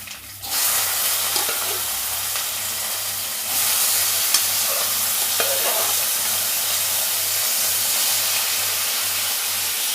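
Ivy gourd stir-frying in a pan with popped mustard seeds and curry leaves, a steady loud sizzle and hiss that jumps louder partway through, with occasional stirring scrapes and no talking.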